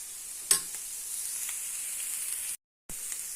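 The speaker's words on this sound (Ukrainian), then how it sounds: "Ось це підсмажуємо. Потім додаємо капусту." Shrimp and cabbage frying in a pan give a steady, fairly quiet sizzle, broken by a sharp clack near the start and a brief dropout of silence late on.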